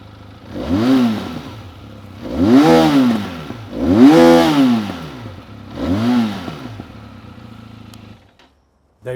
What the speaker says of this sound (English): let's start off this review with the sound that the motorcycle makes